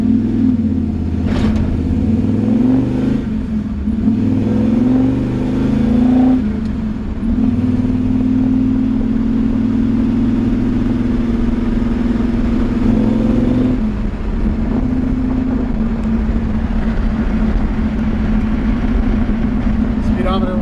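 A 1951 Ford F-1 pickup truck on a drive, its engine droning steadily with rising and falling pitch as gears are shifted, heard close from inside the cab, with someone talking over it.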